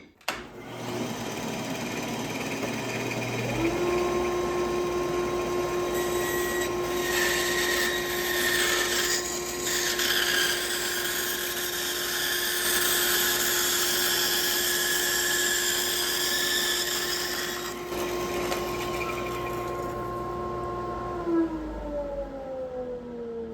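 Power sander shaping a curved wooden piece after bandsaw cuts: the motor spins up to a steady tonal whine, the pitch shifts slightly as wood is pressed against it, then it winds down near the end.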